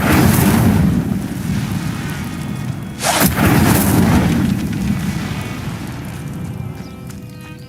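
Incendio fire spell cast in Hogwarts Legacy: a loud, sustained rumbling roar of flame with a sharp whooshing burst partway through, then a slowly fading rumble.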